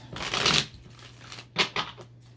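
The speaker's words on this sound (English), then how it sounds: "I'm going to do one more shuffle here for you Capricorns" Tarot cards are riffled in a quick burst, then two short shuffling flicks follow after a pause, close and crisp.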